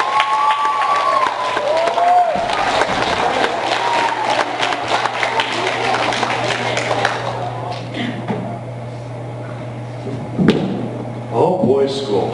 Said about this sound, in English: Please give a warm round of applause for Rick Razor Titan.